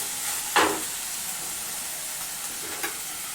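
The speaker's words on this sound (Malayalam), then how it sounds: "നമ്മളിതൊരു ചുവപ്പ് കളറാവുന്നിടം വരെ വഴറ്റിയാൽ മതി" Onions sautéing in a pan until reddish give a steady soft frying sizzle, with two brief louder stirring scrapes, the first near the start and a fainter one later, and no talk.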